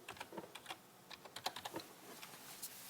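Typing on a computer keyboard while entering data into an Excel spreadsheet, a quick run of soft, close key clicks in uneven bursts, faint and alone.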